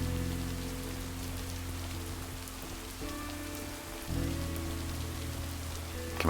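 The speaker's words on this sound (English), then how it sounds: "Coming out in the rain" Steady rain in the video game Paper Plays: "Lake" patters across the whole stretch, a dense hiss of drops on surfaces with a low droning hum underneath, continuous and fairly loud.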